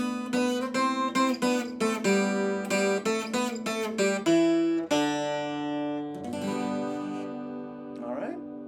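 Guitar intro riff of a song in G, with notes fretted and plucked open. A quick run of close picked notes leads into longer ringing chords that fade, with a brief voice near the end.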